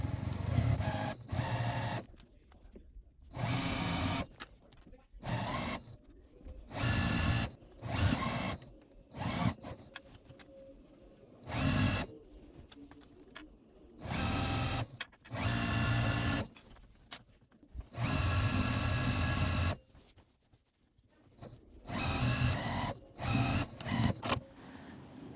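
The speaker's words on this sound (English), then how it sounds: "we're just going to sew all the way around this bag, just making sure that we're hitting our lining" A sewing machine stitching lining around a tote bag, running in repeated bursts of rapid mechanical whirring separated by short pauses, close and steady.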